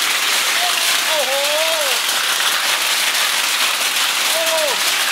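Large hailstones pelt a house in a mountain hailstorm with a steady, loud, crackling roar, and a man's exclamations break through above the din.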